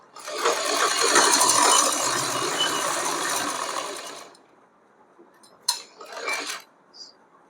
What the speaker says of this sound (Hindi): देखिए पॉकेट को इस तरीके से साइड करते हुए यहाँ पर स्टिचिंग लगा देंगे